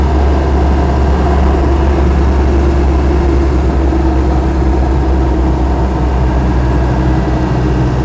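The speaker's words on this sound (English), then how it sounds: "it's got a big set of 33-inch off-road tyres on it, which are a little bit noisy in road use like this" Land Rover 90 200TDi, raised two inches, on noisy 33-inch off-road tyres, driving on a road: a loud, continuous low diesel drone and tyre roar, steady and close throughout.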